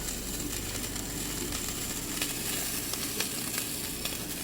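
Sausages sizzle and crackle steadily in a hot frying pan for breakfast, a dense, close, continuous hiss dotted with small pops and no talking.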